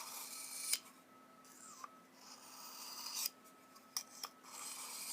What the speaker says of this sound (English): with a couple passes, you can easily sharpen your utility knife blade and have it cut pretty darn good